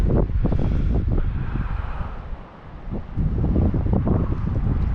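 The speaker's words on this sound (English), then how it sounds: "There's nothing you can do about the squirrely wind" Gusty wind buffets the microphone at Cleawox Lake in Florence, Oregon, during fly fishing, a loud rushing roar that briefly eases midway before surging again.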